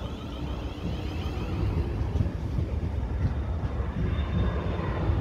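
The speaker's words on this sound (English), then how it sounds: "Oh yeah, planes come here as well." A broad, steady roar of an airplane overhead grows slightly louder, with no voices.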